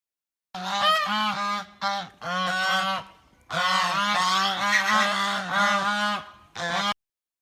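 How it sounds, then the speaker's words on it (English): A goose honks loudly in a series of harsh, nasal calls, several quick bursts followed by a longer run, close and clear with no talking. "This is a goose."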